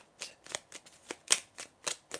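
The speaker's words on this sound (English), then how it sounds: "I'm just going to shuffle some oracle cards for you now" Oracle cards are shuffled by hand close up, a rhythmic series of about eight soft riffling bursts with brief pauses between them.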